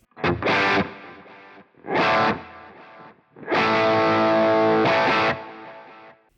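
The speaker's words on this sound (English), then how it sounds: "when I stop you'll hear the guitar bouncing from left to right" Distorted electric guitar through a TONEX plays loud chords in three bursts, each ringing out with ping-pong delay echoes bouncing left to right and trailing off between strums.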